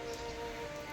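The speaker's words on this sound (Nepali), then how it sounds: "पानी परेछ सिमसिमे।" Light drizzle falls over a market street in Dharan, a faint, even hiss of fine rain on surfaces with no voices.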